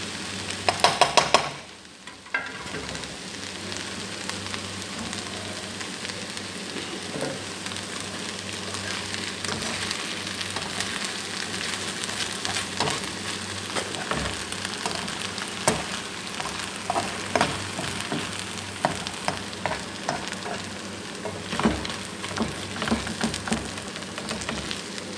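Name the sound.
drumstick (sajna) leaves frying in pan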